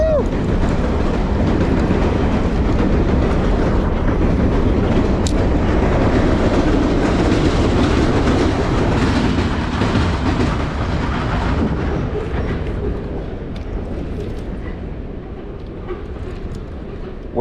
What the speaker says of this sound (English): that's a working train track if I've ever seen one.